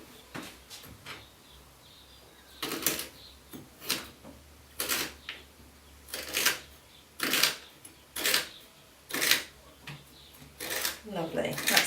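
A child's knife chops celery on a cutting board, about a dozen crisp, close knocks in a fairly steady rhythm, with short pauses between strokes.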